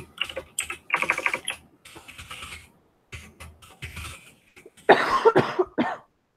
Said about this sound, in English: sorry about the keyboard clacking.